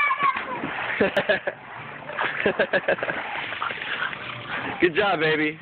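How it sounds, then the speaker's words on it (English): A person does a cannonball jump into water, landing with a splash and sloshing among bursts of excited talking and encouragement from people nearby. "doing the cannonball"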